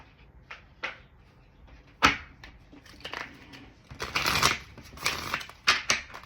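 Tarot cards are shuffled by hand in quick papery riffles and flutters, starting with scattered soft flicks and building to denser bursts of card noise, close and fairly quiet.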